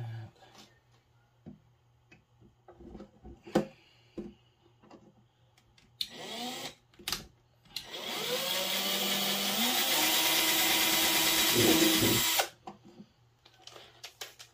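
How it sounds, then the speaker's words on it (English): Power drill boring pilot holes during a boat build, a short burst around six seconds and then a sustained loud whine for about four seconds, preceded by scattered taps and clicks of handling in a quiet space. "Pilot holes drilled."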